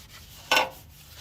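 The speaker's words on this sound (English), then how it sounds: "We're gonna sand these motor mounts that are already done." A single short sanding stroke on painted motor mounts of a vehicle chassis, a bright rasping burst of about a tenth of a second in otherwise quiet surroundings.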